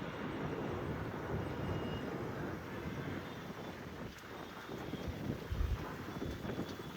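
A jet aircraft roars at Delhi Airport, a loud, continuous rumbling engine noise that swells slightly near the end, with wind buffeting the microphone and no voices.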